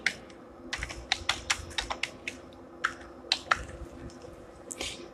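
Keys clatter on a computer keyboard as a plugin name is typed into a search field, a quiet, close, irregular run of sharp clicks in quick bursts with short pauses between.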